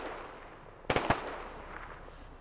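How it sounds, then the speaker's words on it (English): A grenade blast in the Squad military shooter game: a sharp double-cracking explosion at middle distance, ringing briefly before fading into quiet ambient noise. "He's gonna throw a grenade."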